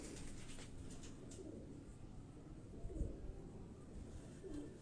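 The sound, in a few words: pigeons cooing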